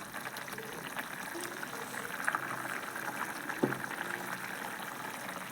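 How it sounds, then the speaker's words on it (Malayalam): Coconut curry bubbling in a pot on a home stove, a soft continuous simmer of low gurgles and occasional pops, faint and close, with no talk over it. "നന്നായിട്ട് തിളച്ചിട്ടുണ്ട്"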